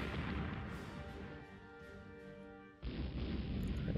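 Naval 4-inch guns firing in the warship game Rule The Waves, a dense, rumbling barrage of booms under a steady tonal hum, with a sharp new burst near the end, loud and alone.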